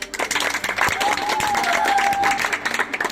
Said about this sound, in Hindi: इनके लिए बहुत बहुत तालियां